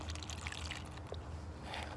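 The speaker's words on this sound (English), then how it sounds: "So you can pour your water directly into it." Water is poured into an Aqua Tote travel water cup, a short trickling and splashing stream of liquid running close and soft for about two seconds.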